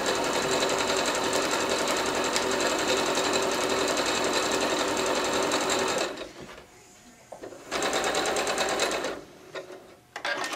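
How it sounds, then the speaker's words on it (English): Sewing machine stitching a quarter-inch seam through batting and backing fabric, a loud close continuous whir running for about six seconds, then a short pause before two brief further bursts. "I'm gonna sew 1/4 inch on my backing fabric all the way around all four sides."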